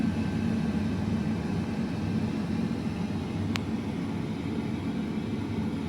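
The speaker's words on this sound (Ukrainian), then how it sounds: "чутно, як повітря, потік повітря збільшився, знаєте, наче злітає" A Philips XL HD9257/80 airfryer fan blows air in a steady, even whooshing hum that holds at a constant level throughout, broken only by one faint, very brief click midway.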